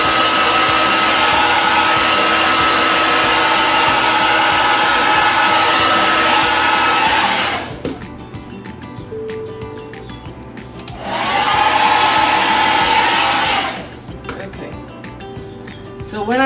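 A hair dryer blows steadily and loudly to dry chalk paste on a silk screen stencil, cutting off twice briefly before starting up again, with no voices heard.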